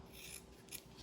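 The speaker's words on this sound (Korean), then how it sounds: "이런 식으로 해서 가위로" Fabric scissors slice through denim while upcycling jeans into coasters, a close, steady rasping crunch of the blades closing through the thick cloth.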